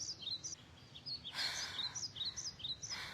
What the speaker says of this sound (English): There are 7 birds within 50 meters of pillar number 2.